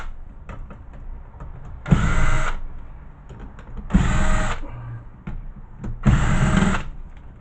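A power driver backs screws out of a flat screen computer monitor, three loud whirring bursts of about half a second each, evenly spaced roughly two seconds apart, with quiet handling noise between.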